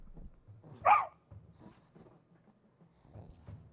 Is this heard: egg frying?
no